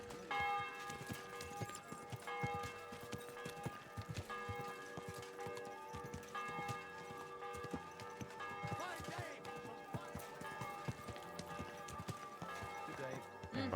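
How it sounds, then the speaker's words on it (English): A church bell tolls steadily in the video game Kingdom Come: Deliverance II, faint and distant beneath clip-clopping horse hooves, game ambience and talk. "The bell's ringing."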